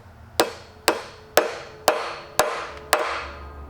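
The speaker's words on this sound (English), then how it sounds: "we're going to hammer this flat." Six sharp metallic hammer strikes flatten a rivet at a steady, roughly half-second rhythm, each ringing briefly before the next; close and loud with no talking.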